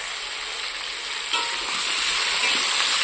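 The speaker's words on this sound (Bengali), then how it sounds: "এটাকে এবার ভাজার অপেক্ষা, লাল লাল করে ভাজবো, ততক্ষণ ভাজা হোক।" Vegetables frying in a pan for a shrimp and amaranth greens dish, a continuous close sizzle with stirring scrapes that grows slightly louder partway through, no talking.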